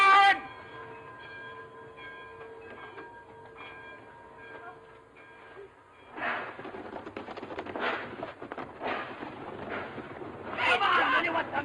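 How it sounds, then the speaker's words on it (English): An old-time passenger train sets off, a steady rumble with a faint whistle at first, then louder rhythmic chugging and clanking as it gathers speed, with voices shouting over it. "get on the train"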